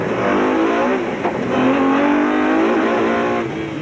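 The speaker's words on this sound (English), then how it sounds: "On board with Hannes Wobbler and Richard Leake in the Nissan Hardbody Super Truck" Nissan Hardbody Super Truck heard from on board in a desert rally race, its engine roaring loud and steady throughout with shifting revs and no talk.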